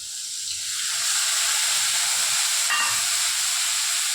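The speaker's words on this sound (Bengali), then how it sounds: "যতক্ষণ না ভাজা হবে ততক্ষণ এটা নাড়তে থাকবো" A paste of onion, garlic, ginger and tomato hits a hot pan and fries close by, a steady hissing sizzle that swells after the first second and holds evenly, with no talking.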